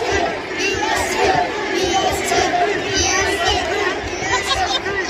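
Dense arena crowd at a WWE Raw wrestling event at the Barclays Center in Brooklyn chanting loudly, a steady roaring mass of voices that stays at full volume throughout.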